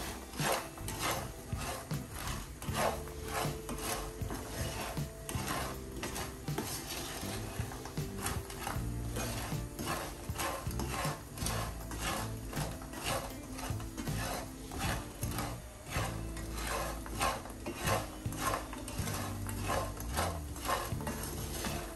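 Sugar and hazelnuts stirred in a pan over medium heat for homemade praliné, giving a continuous gritty scraping and rattling with a steady, rhythmic back-and-forth, close and uninterrupted throughout.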